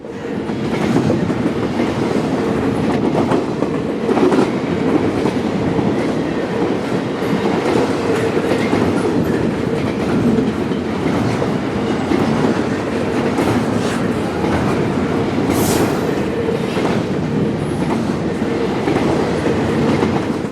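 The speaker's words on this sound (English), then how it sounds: "northbound train I-157, today combined with train I-007 with 4 GEs heading north by CP22" A long northbound CSX freight train hauled by four GE locomotives rumbles past nearby, its wheels clattering steadily over the rails in a continuous loud roar with no pause.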